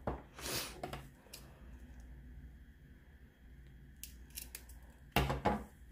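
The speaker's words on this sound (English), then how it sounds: "So I'm going to cut it right here." Scissors cutting paper for a planner spread: a quick crisp snip up front, a few faint clicks in between, then another sharp, close cutting burst near the end in an otherwise quiet room.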